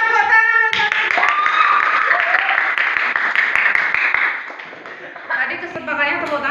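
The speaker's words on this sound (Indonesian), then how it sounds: "Tepuk tangan untuk Nadia." Classroom applause for a student in a junior high science lesson, a short burst of clapping from pupils that fades midway, with voices and talk heard over and around it.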